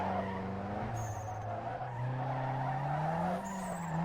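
A race car spins out in Need for Speed Underground 2, its tires screeching in a long wavering squeal over the engine drone, loud and close, with no voices.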